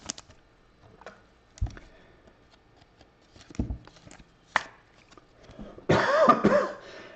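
A single harsh cough near the end follows scattered soft taps and small handling noises in an otherwise quiet room.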